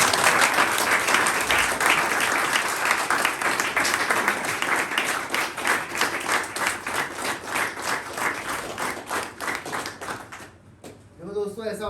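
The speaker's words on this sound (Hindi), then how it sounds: "इसके लिए भी जोरदार तालियां।" An audience at a rehabilitation centre bursting into loud, sustained applause, dense rhythmic clapping that gradually thins and fades near the end as a voice comes back in.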